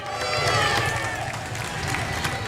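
A crowd's applause and cheering as a coffin arrives at the Congress building in Buenos Aires, a steady, dense wash of clapping and voices that stays loud and continuous throughout.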